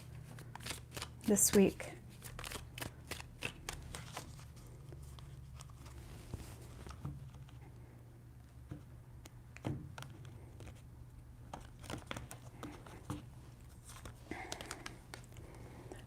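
Tarot cards are shuffled by hand, a run of soft, quick riffling taps and flicks that come in uneven bursts. They sound close and quiet, and a voice speaks briefly.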